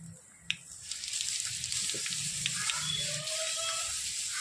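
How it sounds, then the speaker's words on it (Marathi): Mustard seeds crackle and sizzle in hot oil in a pan for a crispy jowar puffed-rice chivda, a steady bright hiss with small spattering pops and a sharp tap near the start, and no talking. "आता आपण ह्यामध्ये एक टीस्पून राई टाकणार आहोत त्यानंतर हिंग अगदी थोडं"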